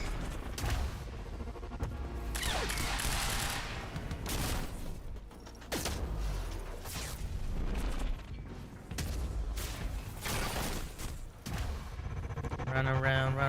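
Enemy gunfire in the video game Quantum Break, dense bursts of shots and impacts rattling throughout amid crashes and mechanical clatter, with a voice speaking at moments.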